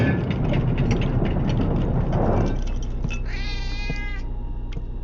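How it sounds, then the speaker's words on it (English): A pet cat meows in the game The Operator, a couple of clear, drawn-out meows rising and falling near the end, over a steady low mechanical hum and rumble that fills the whole scene. "Apparently I have a pet cat."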